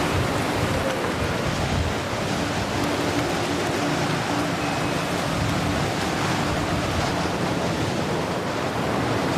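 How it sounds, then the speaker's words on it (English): Typhoon wind gusting at around 110–120 mph roars without a break, a dense, loud rushing blast that buffets the microphone steadily throughout, with no voices. "Definitely 110, 120 mile an hour wind."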